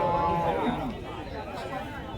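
Cows at a busy cattle market in Chalisgaon, with a low moo-like bellow amid a steady crowd murmur and nearby talking voices.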